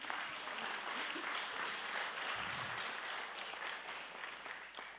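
An audience at a vocational excellence award ceremony applauds with a steady wash of clapping that holds throughout and slowly fades, heard somewhat distantly in a large room.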